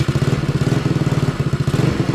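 A Honda Ruckus clone scooter engine with a big bore kit, a 2016 Maddog, runs at a low, steady idle, loud and close with an even thumping pulse.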